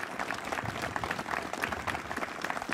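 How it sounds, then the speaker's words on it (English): Audience clapping at an outdoor memorial ceremony celebrating a miners' memorial, a continuous moderately loud patter of many hands without talk over it. "Could we have a round of applause for Cassandra?"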